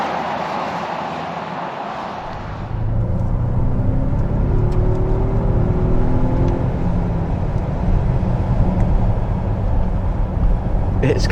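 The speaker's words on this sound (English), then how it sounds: "It's kind of a nice engine" A 2025 Volvo XC90 luxury three-row SUV accelerating on a twisty road, with the engine's drone rising loudly a few seconds in and then holding a strong steady pull heard from inside the cabin.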